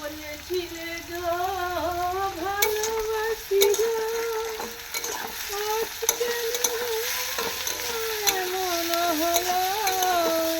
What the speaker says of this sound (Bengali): তারপর ওর ওপরে চাউমিনটা দিয়ে দেবো